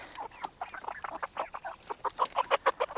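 Bresse hens being taken out of a pen to be moved, clucking in quick close bursts that grow louder and more insistent toward the end.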